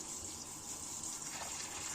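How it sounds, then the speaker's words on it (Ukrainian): Steady rushing water poured over sunflower seeds for sprouting, like a stream from a tap or jug, continuous and fairly close, with no talking. "я його також намочу зараз, е, залью водою"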